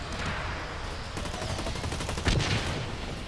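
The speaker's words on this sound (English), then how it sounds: "Chuck a grenade." A grenade in the shooter game Blacklight Retribution, heard amid continuous rattling gunfire, with a louder burst near the end that could be the blast.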